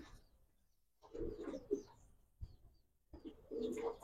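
A pair of Military and Lalpatti pigeons coo at a farm, two soft, close bursts of low throaty cooing separated by a short pause.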